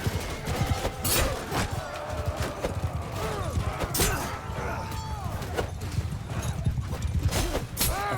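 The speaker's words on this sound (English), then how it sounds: "Comes another horse charge" Cavalry horses charge in Mount & Blade II Bannerlord, with rapid clip-clop hoofbeats alongside sharp battle clashes and impacts, and a voice talking over the fighting.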